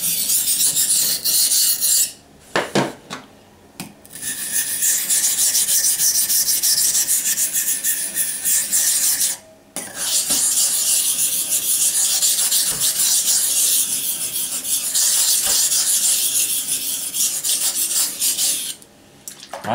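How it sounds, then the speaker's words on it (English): Steady rasping strokes of a hunting folder knife being sharpened to a convex edge on a stone, loud and continuous with two brief pauses, no talking. "for convex edge, this stone sharpening is not strict, kind of loose"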